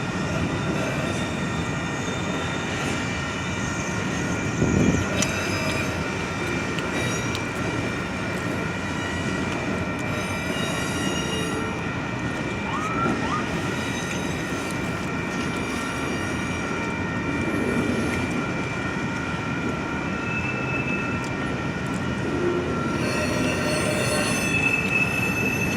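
A Union Pacific manifest freight train rolls into a rail yard, wheels squealing steadily against the track in a continuous high whine over the deep rumble and clatter of the cars, loud and sustained throughout.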